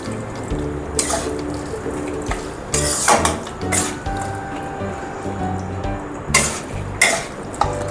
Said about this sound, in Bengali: এটা একটু নাড়াচাড়া করে আমি ঢাকা দিয়ে দেব।